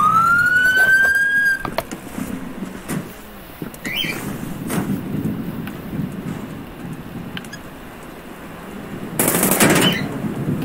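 Gunshots in a police roleplay video game: bursts of rapid automatic fire, with a siren wailing briefly at the start and a loud blast near the end, and no one talking.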